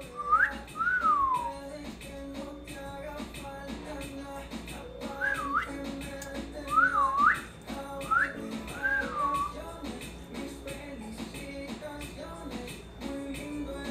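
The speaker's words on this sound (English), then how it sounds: "Your horrible whistling?" Someone whistles a lazy tune in short, swooping phrases, clear and close over a steady low background hum, with small clicks and clatter scattered throughout.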